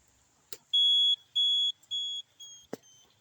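A motorcycle ignition key buzzer beeps four times after switching on, sharp high tones with short gaps, the last one quieter, and a couple of faint clicks in between.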